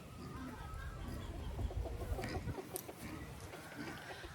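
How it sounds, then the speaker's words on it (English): Chickens cluck and squawk continuously from close by, a busy flock chattering over steady background noise with an occasional higher call. "That's a lot of chickens."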